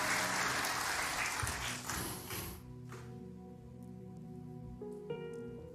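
Church congregation applauding, a dense burst of clapping that fades out after about two and a half seconds, leaving quiet room tone with faint music.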